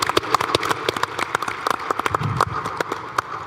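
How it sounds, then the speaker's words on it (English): Scattered applause from a conference audience at a basketball coaches congress, sparse, uneven claps spread across the room at moderate volume, never building into a dense ovation. "Please give them applause."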